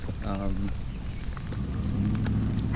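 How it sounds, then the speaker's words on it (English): Steady rain falls outdoors near tennis courts, a constant soft hiss of drops spattering on surfaces, moderately faint and continuous throughout with no talking. "It's raining out"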